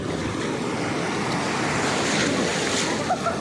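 Rough ocean surf rolls in continuously at Laois Beach, Pangasinan, a loud, steady wash of waves with wind buffeting the microphone and no voices.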